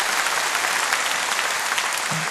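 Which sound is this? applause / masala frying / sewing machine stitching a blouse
applause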